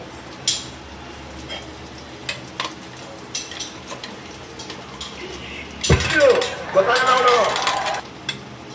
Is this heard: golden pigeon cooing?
no